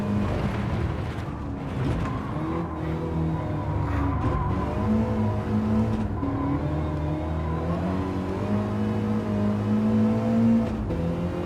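A race car engine in Gran Turismo 7 hums steadily, its pitch rising and falling through shifts and revs for the whole stretch, close and loud with no talk.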